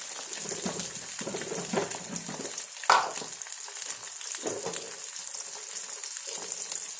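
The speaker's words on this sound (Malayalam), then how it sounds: "നല്ലപോലെ എണ്ണ തിളച്ചിട്ട് വേണം മുട്ട പൊട്ടിക്കുന്നത്" A fridge-cold egg cracked into hot, bubbling oil sizzles steadily with crackling pops and a sharp tick partway through, close up with no talking.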